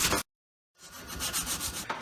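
Sandpaper of 180 grit rubs back and forth over an old wheel by hand, producing close rhythmic scratchy strokes after a brief silent gap.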